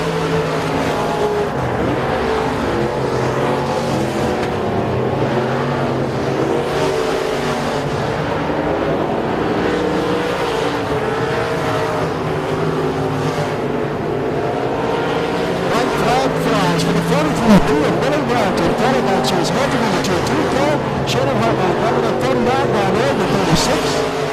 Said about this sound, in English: 2 laps to go as they come down the front straight.